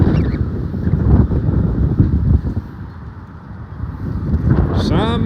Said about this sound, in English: Oh boy, it's windy and cold.